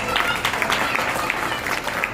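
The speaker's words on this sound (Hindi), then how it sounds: "तो दिल्ली वालों के लिए भी एक ताली बजा दें।" An audience claps together in a burst of steady applause for the Delhi devotees at a Giriraj ji Annakoot devotional gathering, dense and fairly close, lasting about two seconds.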